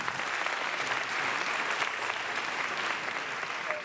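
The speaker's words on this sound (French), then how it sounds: "Tu vois que les X s'applaudissent aussi" Sustained applause from an audience at a conference debate, a dense, even wash of clapping that holds steady throughout.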